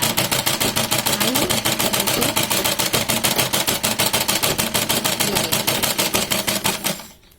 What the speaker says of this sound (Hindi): अब देखिए हम ये चक्के को थोड़ा ऐसे नीचे करेंगे और ये सिलाई आती चलेगी